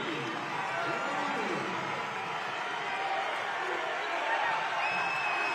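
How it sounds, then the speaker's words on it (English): A basketball arena crowd at a college championship game roars after a pull-up three-pointer, a dense, sustained wall of cheering and whooping, with a commentator's voice running underneath. "And the crowd comes alive"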